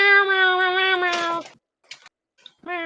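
A human voice imitates a cat, producing a drawn-out, strongly pitched meow followed by short breathy sounds and a second brief meow, close and loud.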